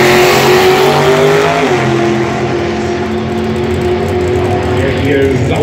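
Ethanol-fuelled drag racing car with over 10 litres of displacement blasting down the strip, a loud continuous engine roar with harmonics climbing and shifting as it accelerates, with a commentator speaking faintly beneath.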